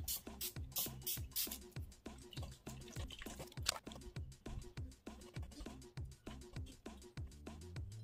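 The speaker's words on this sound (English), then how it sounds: "I'm spraying my entire face" Rapid spritzes of an NYX setting spray onto a face, many short hissing bursts repeating in a steady rhythm close by.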